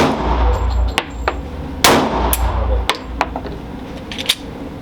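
Glock 23 and Glock 19 pistols fired outdoors, with several sharp, separate shots spaced irregularly over a steady background rumble.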